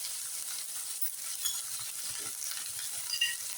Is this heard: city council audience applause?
no